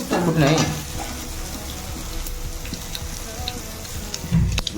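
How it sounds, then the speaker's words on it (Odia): A panch phutana tempering of whole spices splutters in hot oil in a home kitchen, loud bursts of crackling at the start and finish over a continuous close sizzle with dense popping. "ଫୁଟଣ ଫୁଟି ଆସିଲାଣି।"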